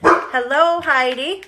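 A pet dog indoors gives a drawn-out, whining bark-howl, loud and close, with a voice speaking over it.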